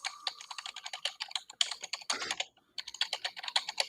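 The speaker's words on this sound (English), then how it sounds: "I'm typing this in right now." Rapid typing on a computer keyboard up close, bursts of quick crisp key clicks in an uneven rhythm with a brief pause near the middle, quiet and alone without speech.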